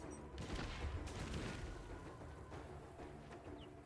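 Cannon fire in a Street Fighter-style fighting game, heard as a dense barrage of booming, rumbling blasts that fill the whole clip at steady loudness, with no talk over it.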